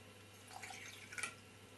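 Water trickles and drips into a jug holding granulated sugar, a quiet, uneven splashing with a few brighter droplet sounds near the end.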